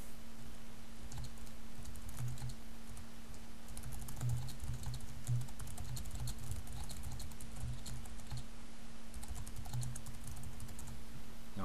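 Typing on a computer keyboard while filling in a website form: soft, quick key clicks in irregular bursts over a steady electrical hum, close and fairly quiet, with no talking.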